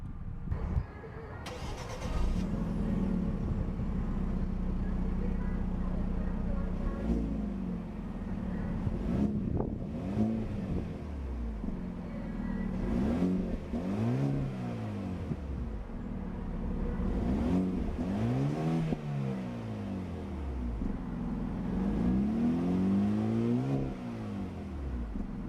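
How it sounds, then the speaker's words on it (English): A 2014 Hyundai Genesis Coupe's 2.0-liter twin-scroll turbocharged four-cylinder cranks and catches, then settles into a smooth, steady idle with a few light revs rising and falling, recorded close with some wind rumble on the microphone. "A beautiful smooth startup from that 2-liter twin-scroll turbocharged 4-cylinder power plant."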